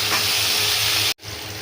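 Bay leaf, onion and green chili fry in hot oil, giving a loud, steady close-up sizzle that breaks off briefly near the end, then resumes.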